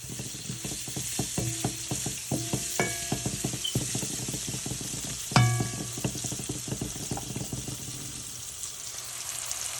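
Onions frying in oil for a fish curry, a steady sizzle broken by frequent sharp clinks and scrapes of a stirring utensil against the pan, close and continuous with no talking.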